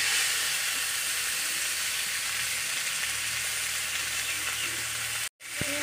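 Neem leaves hit hot oil beside browned eggplant in a pan, giving a loud, steady broadband sizzle that holds for several seconds before a brief cutoff and a quieter return.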